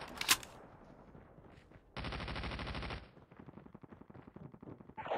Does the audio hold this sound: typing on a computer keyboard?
no